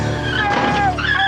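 A cartoon car in a Garfield special skids with a loud, brief tire squeal that wavers in pitch, then cuts off abruptly.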